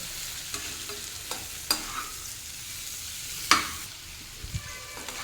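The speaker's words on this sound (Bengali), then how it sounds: "এখন হালকা করে এটাকে মিশিয়ে নাড়াচাড়া করতে হবে আর এই অবস্থায় ফ্লেমটাকে অবশ্যই লোতে রাখতে হবে" Spices being stirred in a pan over a low flame, a faint soft sizzle beneath occasional scraping taps of a spoon against the pan, quiet and sparse.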